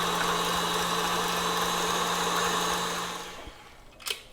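An electric mixer beating cake batter for an apple ricotta cake with almond flour, whirring at a steady loud hum for about three seconds before winding down and stopping, followed by a brief clatter.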